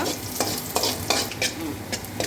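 Ginger garlic paste sizzles steadily in oil in a pan while a spoon stirs and scrapes at intervals, producing soft clinks over the constant frying hiss.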